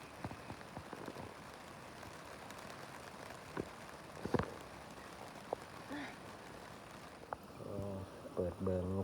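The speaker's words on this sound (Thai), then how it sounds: "ฝนตกพ่อแม่พี่น้องนี่ตกน้อยๆแต่ว่ายังบ่ทันตกหลายพ่อแม่พี่น้อง" Light rain pattering steadily on a surface outdoors on a farm, a soft continuous hiss with scattered nearer drops, while a voice talks intermittently and a brief hum of other activity rises near the end.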